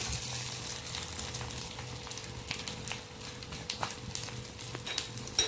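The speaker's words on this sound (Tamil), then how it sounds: "இது எல்லாத்தையுமே வந்து வறுத்துக்கணும் இப்போ நம்ம எடுத்து வச்சிருக்க மசாலா போட்டுக்கலாம்" Spices and masala roasting in a hot pan for Tamil-style mutton kulambu, a steady close sizzle and frying crackle with scattered stirring scrapes throughout, no talking.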